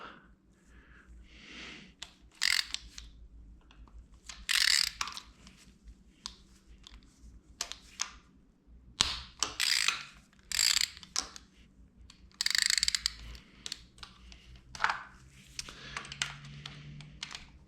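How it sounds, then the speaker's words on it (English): A ratchet with a 10 mm socket working the oil pump bolts on a 1992 Honda Civic D16Z6 engine during teardown, bursts of rapid clicking ratchet strokes separated by pauses and handling noises, close and fairly quiet. "to remove the oil pump here, we got a 10 mil socket here"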